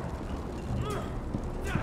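Hooves clip-clop close by with a soft horse snort, under a steady murmur of background noise, from a horse in the Telltale Game of Thrones video game.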